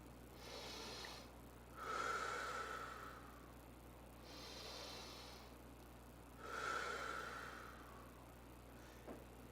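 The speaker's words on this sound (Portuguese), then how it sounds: "Você respira, inspira pelo nariz e expira pela boca." Slow, deep breathing, with an inhale through the nose and an exhale through the mouth, repeats in long, audible cycles, close and fairly quiet, with no talk.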